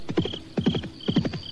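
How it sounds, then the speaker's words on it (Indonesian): Horse hooves clip-clop in three quick triplet bursts, clear and fairly close, as a rider on horseback approaches with a faint bell-like tone above. "Ada orang berkuda menuju kemari."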